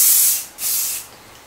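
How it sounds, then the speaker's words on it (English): Hairspray from an aerosol can misted onto styled hair in two short hissing bursts, close and crisp, with a brief pause between them and a third spray starting at the very end. "Then spray a little hairspray."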